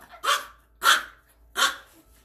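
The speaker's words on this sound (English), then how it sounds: "They're familiar with the barking," A dog barks three times at an even pace, each bark clear and moderately close, with quiet pauses between them and no talking.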